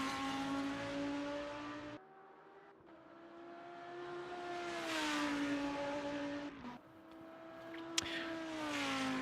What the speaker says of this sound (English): I cannot cease to be amazed by the soundtrack of this Audi. It's just the V10 engine makes such a lovely note.